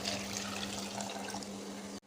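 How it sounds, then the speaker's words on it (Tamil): Water pours steadily into a cooking pot of dal with onion, garlic, tomato, curry leaves and turmeric, a continuous close splashing stream that stops abruptly at the end. "தண்ணி ஊற்றிக்கலாம்"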